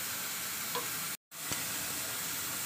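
Fried kalbasu fish slipped into boiling curry in a pan, a steady close sizzle and bubbling hiss broken by a brief silence, with a couple of soft clicks from placing the pieces.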